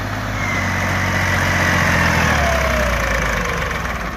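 A well-kept old 350 tractor engine idles steadily nearby, a loud continuous low rumble with even throb and no talking.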